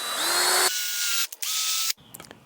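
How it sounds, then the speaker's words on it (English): Power drill pre-drilling a screw hole in wood for an onion drying rack build, a loud high whir that spins up, drops in pitch as the bit bites, briefly stutters, then stops, followed by faint handling clicks. "we're going to pre-drill our hole"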